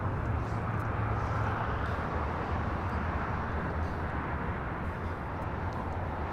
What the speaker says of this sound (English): This is SAS 932 taking off to Copenhagen on the